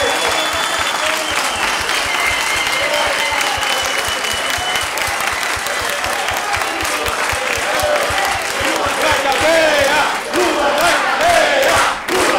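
An audience at an anti-crime congress in Brazil breaks into loud, sustained applause that carries on for about twelve seconds, with scattered cheers rising near the end.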